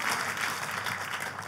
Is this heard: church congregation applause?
yes